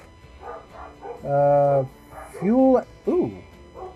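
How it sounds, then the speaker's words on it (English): Dogs in the Transport Fever simulation game let out three drawn-out, tonal barks or howls in quick succession over a low background hum, with a brief spoken word in between. "Don't mind the dogs."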